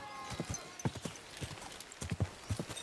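Horse hooves clip-clopping in a medieval game setting, a moderate walking rhythm of soft, fairly close hoofbeats with a faint ambient bed behind, no voices.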